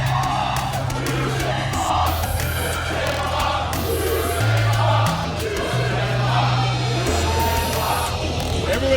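A wrestling arena crowd cheering and yelling, a loud, dense roar of many voices that holds steady with surges of shouting, mixed with entrance music and an amplified announcer talking over it.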